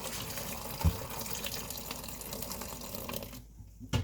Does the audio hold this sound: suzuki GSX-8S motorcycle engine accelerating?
no